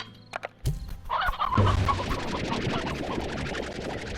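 Chickens cluck in the video game Slime Rancher, a steady busy flock heard up close after a few soft taps, filling the scene without any speech.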